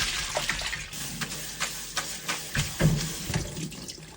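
Tap water runs steadily into a sink while chicken feet are scrubbed and rinsed, with irregular splashes and handling knocks over the flow, close by.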